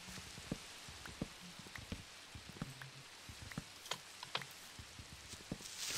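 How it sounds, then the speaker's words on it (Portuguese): Rain falls in the Minecraft video game, a soft continuous patter with scattered sharper drops, fairly faint and steady with no talk. "Dá, já está a parar a chuva."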